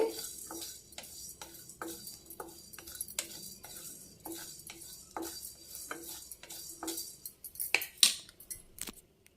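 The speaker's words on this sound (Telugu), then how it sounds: "నువ్వులు తొందరగా ఎగుతాయండి" Sesame seeds dry-roasting in a hot pot give off scattered sharp ticks and pops at an irregular rhythm, fairly quiet and close with no talking.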